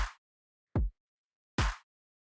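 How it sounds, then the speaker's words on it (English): Three sparse, punchy programmed drum hits in a slow sequence: a short snappy clap, a deep booming kick, then a fuller hit layering both, with silence between. "So drums should sound like this."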